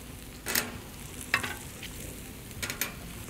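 Bacon frying in a pan for a breakfast burrito, a faint, steady sizzle broken by a few brief scrapes and clicks of a utensil, quiet and close with no talking.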